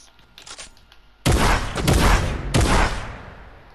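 Gunfire in a video game: after a quiet start, three loud, heavy blasts in quick succession, each with a booming tail, close and dominant.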